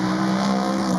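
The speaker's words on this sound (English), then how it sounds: "leaning on the car all the way through the left-hander" A GT race car corners hard through a left-hander at the Goodwood Festival of Speed timed shootout, its engine holding a steady, loud note throughout with faint tyre scrub underneath.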